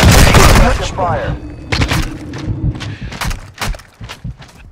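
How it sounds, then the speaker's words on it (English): Video game gunfire, bursts of shots and booms in a squad-based shooter, repeated cracks scattered through the clip with loud noise at the start and game voice chatter mixed in. "You are taking effective fire."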